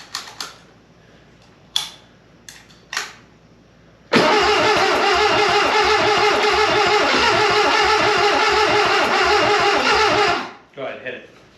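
A Volkswagen 411 engine, freshly worked on at the carburetor, gives a few short cranking bursts, then fires and runs loud and steady for about six seconds before cutting out, with people talking around it.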